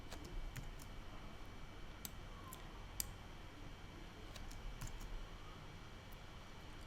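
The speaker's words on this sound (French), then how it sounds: "Je clique à côté" Computer mouse clicking at a desk during drawing work in Adobe software, sounding as sparse, faint, sharp clicks over a steady background hiss.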